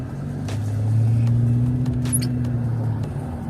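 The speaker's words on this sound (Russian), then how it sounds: "там на мойку машина заехала" A car drives into a car wash nearby, its engine humming low and rising slightly before settling, with faint clinks and clatter over the steady rumble.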